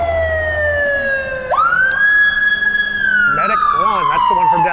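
Ambulance Medic 1 in Washington, D.C. sounds a loud, close siren: a steady wail that jumps sharply in pitch, holds, then slides down into a fast warbling yelp, with traffic noise underneath.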